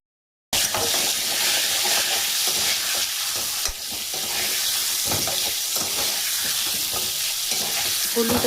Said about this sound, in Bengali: হলুদ আর নুনটা সুন্দর করে মাখানো হয়ে যাওয়ার পরে একটু 2-3 মিনিট মতো ভেজে নেবেন